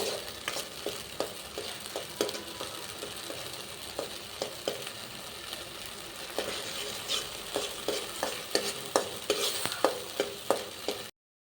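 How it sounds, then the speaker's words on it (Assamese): Spices sizzle steadily in a pan for a mustard fish curry, punctuated by repeated scraping and stirring clicks that grow more frequent toward the end; no talking. "এইখিনি এতিয়া অলপ ৰঙা হোৱালৈকে ভাজিম।"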